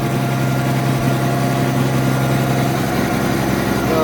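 A Case 4490 tractor engine runs continuously at a rough, loud idle close to the microphone, a dense low rumble with no break.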